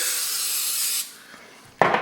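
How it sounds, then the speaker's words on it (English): Coconut oil cooking spray hisses steadily for about a second as it coats chicken pieces, then stops and is followed by a short clunk of handling. "this is just some coconut spray right here"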